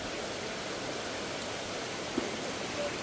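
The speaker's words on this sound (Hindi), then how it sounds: "मस्त बारिश हो रही है।" Heavy rain pours steadily outside at night as a dense, even broadband hiss with no breaks, loud and continuous throughout, with no talking.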